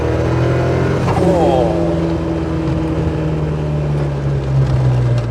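Ford Sierra Sapphire Cosworth, a 411 bhp car, revving and accelerating from inside the cabin: a loud, rising engine drone that climbs in pitch and holds, with brief speech over it.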